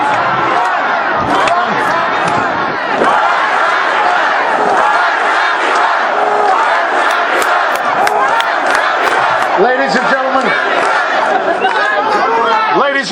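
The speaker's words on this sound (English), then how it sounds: "Just listen to the crowd." A dense crowd at a Wisconsin Tea Party rally in April 2010 fills the air with loud chatter, shouts and whoops of cheering, and individual voices call out over the constant crowd roar.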